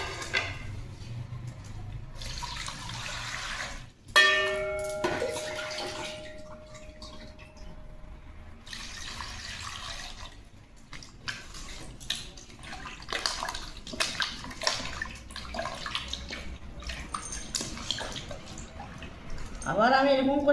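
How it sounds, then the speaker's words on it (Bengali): Ash gourd pieces being rinsed in clean water while making chal kumro murabba, with splashing, dripping and sloshing in a bowl close by, plus a brief clatter of a vessel and water running on and off across the stretch. "আবার আমি একবার পরিষ্কার জলে ভালো করে ধুয়ে নেব।"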